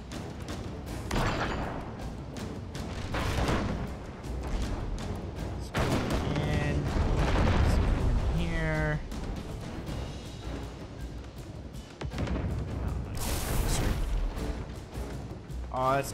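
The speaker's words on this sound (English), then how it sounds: "Just loading up all the cannons right now." Ship cannons fire in the naval combat video game Abandon Ship, a series of booming blasts and crashes scattered over sixteen seconds, heard beneath steady talking.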